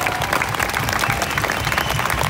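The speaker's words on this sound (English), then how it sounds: "Please clap, clap for yourself." Protest crowd at Parliament Square clapping steadily and densely, a loud continuous wash of many hands close around, with no clear speech over it.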